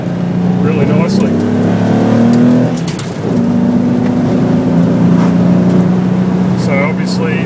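A Nissan Datsun L30 inline-six with triple Mikuni 44PHH carburettors drones steadily from inside the moving car, smooth and loud under load, with a brief dip as revs change before pulling on again.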